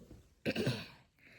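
A single short, harsh cough, fairly close, preceded and followed by quiet room noise.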